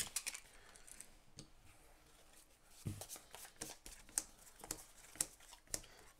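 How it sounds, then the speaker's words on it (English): Seven playing cards shuffled together during a tabletop game of Pandemic: soft, quiet riffling and papery taps with sharper clicks in the second half, close and with no talk. "So we'll shuffle these 7 cards together."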